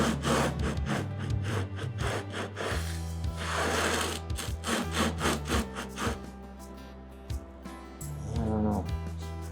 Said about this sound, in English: We're gonna put some 1000 paper on there, wet it down, and see if we can't just take that underneath rough edge off